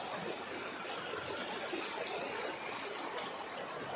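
A clean river rushes steadily in a broad, even hiss, quiet and unbroken, with no voices over it.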